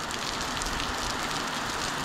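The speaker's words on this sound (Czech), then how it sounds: "už mi prší na lis" Steady rain falls on a farm baler left outdoors on a wheat-hauling day, a dense, even hiss of drops pattering on metal that continues without a break.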